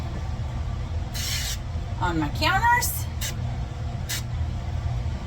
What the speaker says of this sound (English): you're going to want to spray your loaf pan